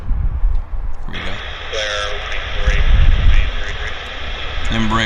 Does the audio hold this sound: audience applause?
no